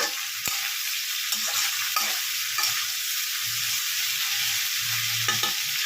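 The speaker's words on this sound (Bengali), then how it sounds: "ক্যাপসিকামগুলো দিয়ে দিলাম। দিয়ে একটু নাড়িয়ে দিচ্ছি।" Capsicum frying in a hot pan sizzles steadily while a utensil stirs it, with repeated scraping strokes and soft knocks against the pan, close up and with no talking.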